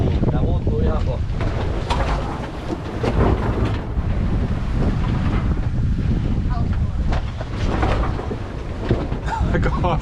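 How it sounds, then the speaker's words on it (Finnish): Loud, roaring wind at sea buffets the microphone nonstop aboard a sailing yacht, with rushing water and boat noise underneath and voices talking faintly. "Nyt tulee tuulta"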